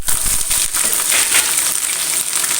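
Garlic slivers dropped into hot oil for beetroot date pickle, a loud steady hiss of frying that fills the whole stretch, with no voices.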